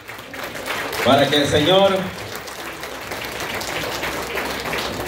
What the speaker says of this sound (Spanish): Un aplauso para los novios